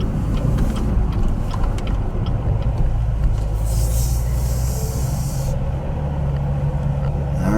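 A car rumbles steadily at low pitch as it pulls in and rolls to a stop, the engine drone continuous and fairly loud with no talk over it.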